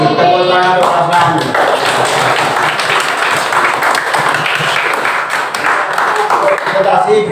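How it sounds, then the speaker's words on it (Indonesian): Sixth-grade primary school pupils clap together in a classroom for a pair of presenters, a loud, dense burst of hand claps that keeps going steadily and evenly. "Tepuk tangan untuk pasangan."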